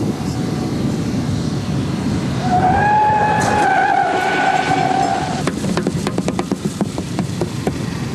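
Car tyres skid and squeal while cornering, a sustained loud screech over steady road and engine noise, followed by a series of sharp clacking bursts.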